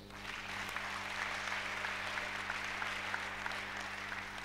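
A church congregation applauds at a French-language sermon, a steady, dense clapping that carries on throughout without any speech over it.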